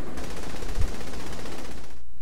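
Rapid automatic gunfire from Saints Row: The Third rattles on as a dense, continuous burst for about two seconds, cutting off abruptly before a sudden low thump at the end.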